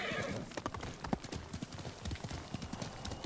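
A horse in the video game Ghost of Tsushima trots with quick, rhythmic clip-clopping hooves and gives a whinny near the start, close and fairly quiet.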